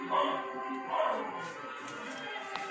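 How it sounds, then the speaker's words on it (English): Dogs in rural Cambodia bark and yip faintly in the distance in a couple of short bursts against a quiet background. "the dogs are barking like crazy"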